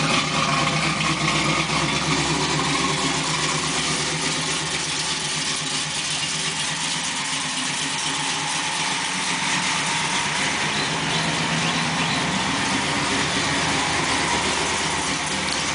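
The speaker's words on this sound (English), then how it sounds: "Pretty nice sound coming through that Flowmaster muffler." A 1995 Camaro Z28 V8 idles steadily through a Flowmaster muffler, giving a constant low rumble with a broad exhaust roar and no pauses or revving for the full length, and no voices over it.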